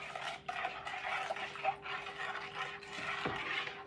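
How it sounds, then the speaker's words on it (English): A spoon stirs a yeast mixture for multigrain bread in a bowl, giving soft, close, continuous scraping and clinking strokes for a few seconds with no talking. "And so I'm going to give it a little stir."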